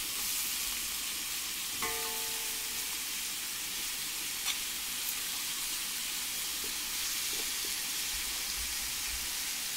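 Lamb pieces searing in a hot pan give a loud, steady hiss and crackle that fills the whole stretch, with a couple of faint clinks and no voices.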